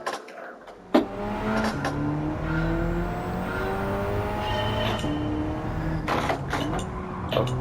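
Race car driven in Gran Turismo 7 on default preferred settings, its engine a steady, loud drone with rising pitch sweeps as it accelerates through gears, a sharp thump near the start.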